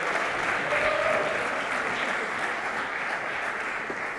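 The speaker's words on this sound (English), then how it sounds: "I'll welcome you to the stage. A round of applause." A room full of attendees at a London Web3 and crypto conference claps to welcome a panel to the stage, an even, moderately distant burst of applause holding steady before fading slightly at the end.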